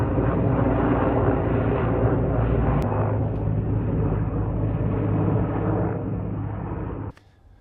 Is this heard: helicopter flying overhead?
yes